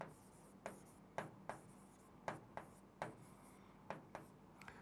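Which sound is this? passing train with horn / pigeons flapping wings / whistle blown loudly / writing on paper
writing on paper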